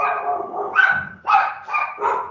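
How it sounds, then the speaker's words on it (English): Several dogs bark and yelp loudly in a rapid, overlapping string of barks, close by, with no talking over them. "Those are my dogs."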